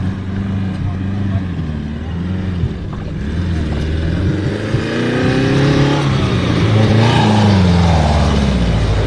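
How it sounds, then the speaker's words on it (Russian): A Daewoo Matiz accelerates off-road, its small engine droning and climbing steadily in pitch and loudness, close and loud, with voices talking over it. "О, сейчас разгон будет брать."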